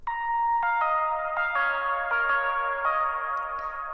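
An electric guitar plays a slow line of sustained, tonal notes drenched in long-tailed heavy reverb, each note blooming and overlapping the next, clear and alone without voices.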